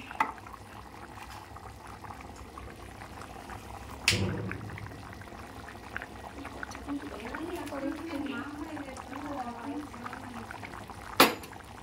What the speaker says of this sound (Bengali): তরকারি ঝোল ফুটে উঠেছে